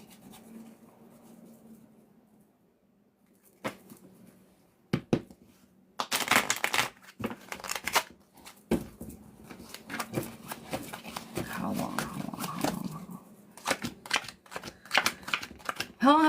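Tarot card deck being shuffled by hand: bursts of crisp riffling and flicking cards, loud and close, in clusters with short pauses, over a faint background hum.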